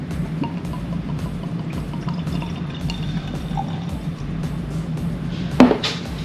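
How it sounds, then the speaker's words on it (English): Maker's Mark Lost Recipe bourbon poured from the bottle into a glass, a soft steady trickle running for several seconds at close range, with no talk. "So we're gonna give ourselves a nice little pour here."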